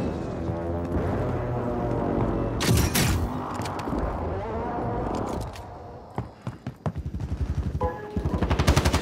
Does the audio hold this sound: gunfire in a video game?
yes